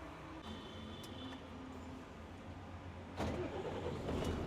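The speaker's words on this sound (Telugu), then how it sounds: "సో ఇంజన్ అయితే స్టార్ట్ చేద్దాం" A vehicle engine starts up after a stretch of low idle rumble, with a sudden louder burst as it catches and keeps running close by.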